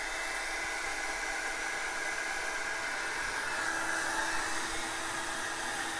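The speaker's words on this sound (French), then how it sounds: "maintenant, je peux chauffer le roulement" Steady, loud hiss of a hot-air heat gun warming a bearing during a café racer frame build in a workshop, a constant broadband whoosh with no pauses.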